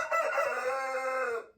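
A chicken in a backyard coop gives a single loud, drawn-out call close by, stretched like a short crow and then cutting off.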